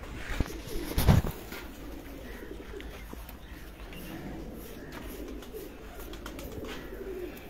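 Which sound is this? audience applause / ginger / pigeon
pigeon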